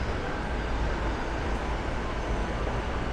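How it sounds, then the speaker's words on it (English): A steady low rumble of trains pulling into Shibuya Station in Japan, with broad rail noise and a faint hiss of rain throughout, no voices. "There's some trains pulling into Shibuya Station."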